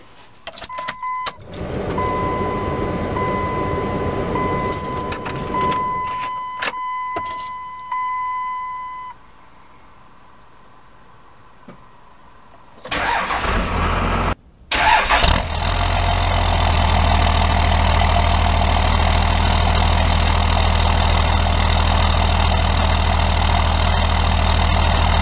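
A stock Cummins diesel pickup truck with a transmission tuner box, engine started in two-wheel drive: dashboard chimes and clicks first, a quiet gap, then the engine cranks, catches and settles into a loud steady diesel idle recorded near the exhaust.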